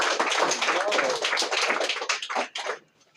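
A school classroom bursts into loud clapping for a correct quiz answer. Many hands clap close by with a few voices mixed in, then the applause thins and stops near the end.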